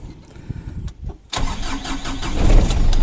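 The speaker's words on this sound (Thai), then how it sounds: "เดี๋ยวพาฟังเสียงเครื่องยนต์นะครับ" The 2500 cc diesel engine of a top-spec Ford Ranger cranks briefly after a quiet moment, catches with a loud burst, and settles into a steady, rough idle heard up close.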